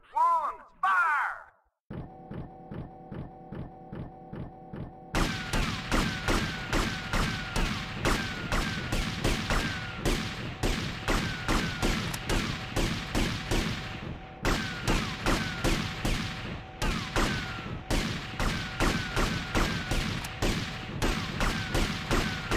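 Rapid volleys of gunfire from live ammunition during a shooting-range mission in GTA Vice City, a burst of dense repeated shots that stays loud and continuous with sharp individual cracks, following a brief voice at the start.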